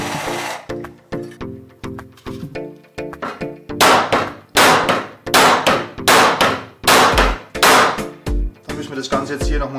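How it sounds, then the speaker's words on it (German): Loud, sharp hammer blows drive a screw in, starting as quick light taps and building into heavier, evenly spaced whacks, close up. "den Rest werde ich dann mit einem Hammer hier einschlagen"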